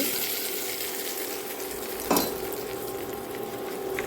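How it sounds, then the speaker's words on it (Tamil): Garlic chutney sizzles in a pan with popped mustard seeds, a steady hissing fry with one sharp clank of a utensil midway, heard close and alone. "கடுகு பொரிஞ்சு முடித்த பிறகு நம்ம அரைச்சி வச்சுருக்க பூண்டு சட்னியை உள்ளே நம்ம போட்டுருவோம் ஊற்றிடுவோம்"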